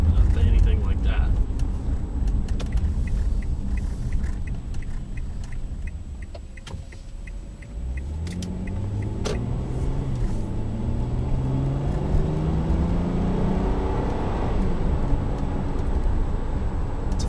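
V6 engine of a 2012 Kia Sorento SX AWD with a six-speed automatic, heard from inside on a test drive: a steady low drone that rises in pitch as it accelerates through the gears, under continuous talk.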